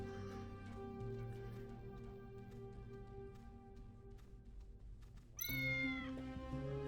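In a video game, a cat lets out a sharp, clear meow near the end, heard over soft, steady ambient game music with faint plinking tones.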